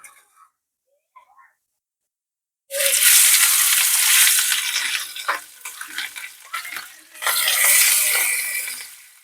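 Pieces of rohu fish coated in salt and turmeric hit hot oil in a frying pan. After a near-silent start comes a sudden loud burst of sizzling that keeps crackling and surges again toward the end.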